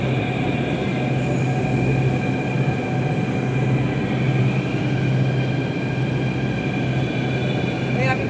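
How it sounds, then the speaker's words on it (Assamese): A Delhi metro train pulls into Lajpat Nagar station, its steady loud rumble and rolling wheel noise filling the platform throughout, with a faint squeal near the end. "এইখন মেট্ৰ'খন আহিছে"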